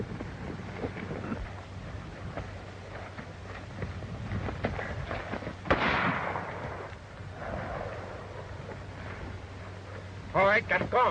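Fireworks in a 1933 pre-code western film go off with scattered bangs and one loud burst, under voices speaking through most of the stretch, with a faint whistling near the end.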